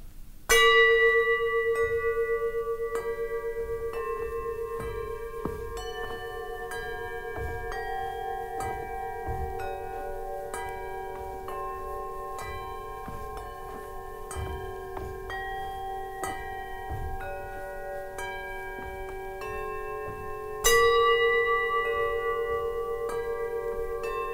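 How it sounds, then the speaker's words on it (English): Suspended bells from Tom Johnson's 1982 piece Nine Bells are struck in a slow, irregular pattern, their long metallic tones ringing and overlapping, with a louder strike near the start and again near the end. "Third bell."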